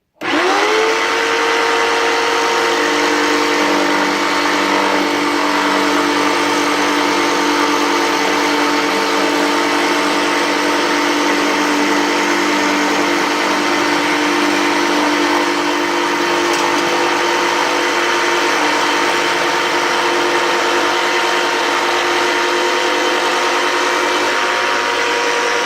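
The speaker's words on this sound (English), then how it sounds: "So again, we set the height, turn on the machine, make a cut." A BladeRunnerX2 portable table saw cuts through inexpensive flat-pack furniture board, the motor spinning up and holding a steady, loud whine with continuous cutting noise throughout, no talking.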